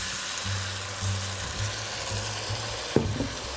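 White wine splashed into a very hot pan for mushroom and parmesan risotto, giving a steady close sizzle with a low hum beneath and a sharper burst near the end.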